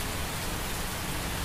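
Rain falls as a steady, dense hiss that stays even throughout, with no thunder or voices.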